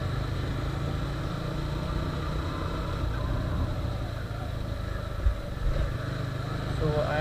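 A 2018 TVS Apache 200 Race Edition motorcycle with a slipper clutch runs at steady engine drone while riding, a continuous close, moderately loud hum with a slight change in pitch as it downshifts.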